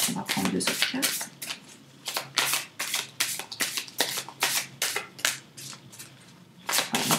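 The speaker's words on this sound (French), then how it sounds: "On va prendre 2 autres cartes." Tarot cards being shuffled by hand for a Cancer sign reading, a run of crisp riffling bursts in quick succession with brief pauses between them, close and fairly loud.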